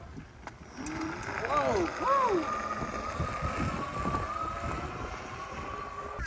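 BPM F-15RZ 1000W foldable electric bike accelerating outdoors, its motor whine rising in pitch over heavy wind rush, while a rider exclaims briefly.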